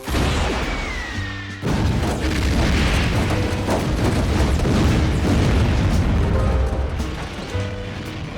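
Launch of a heat-seeking missile from a military vehicle, a sudden loud blast that becomes a sustained roaring rush, with a rising whistle at the start and heavy rumble throughout.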